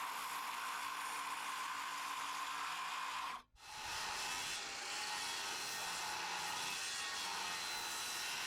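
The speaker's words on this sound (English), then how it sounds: "I'm using this saw to cut the 11-degree bevel one direction" A saw rasps steadily through a log, cutting an 11-degree bevel for a tiny log cabin. The cutting noise is continuous and fairly loud, broken by one abrupt pause midway, then resumes.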